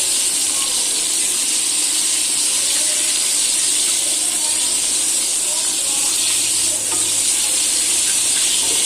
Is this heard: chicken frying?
yes